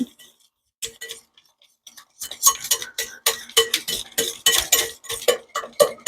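A whisk clinks rapidly against a bowl as sugar and egg are beaten together for an apple cake, a quiet start giving way to steady, bright metallic ticking and scraping, close up with no talking.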